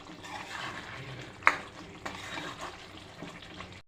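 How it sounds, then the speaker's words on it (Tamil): Soft, low bubbling and sizzling of chicken curry simmering in a pot on a low gas flame, with one sharp clink of a utensil partway through. "லோ ஃப்ளேமில் வச்சு நல்லா ஒரு டூ மினிட்ஸ் கொதிக்க விட்டு"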